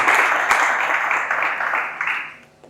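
An audience at a French-language event applauds with a loud, close burst of clapping that holds steady, then thins out and fades toward the end.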